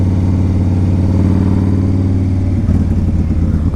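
Yamaha Raider motorcycle being ridden, a loud, close, steady engine drone with a deep throbbing rumble that shifts slightly near the end, no voices.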